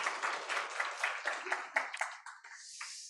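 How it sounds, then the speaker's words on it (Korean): A church congregation claps during a Sunday Lent worship service, a brief, fairly close burst of many hands that thins out and trails off after a few seconds. "우리 하나님께 영광의 박수 올려주겠습니다."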